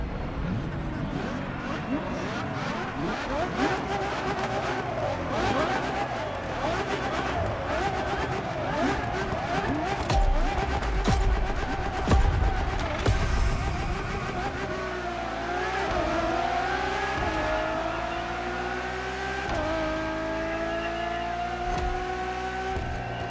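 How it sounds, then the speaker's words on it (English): Ferrari Enzo supercar driving in The Crew Motorfest racing game, its engine revving and shifting steadily throughout with rising pitch sweeps, loud and close, under game music and voice narration. "Ferrari Enzo, fourth in the supercar bloodline, was just like her sisters before her"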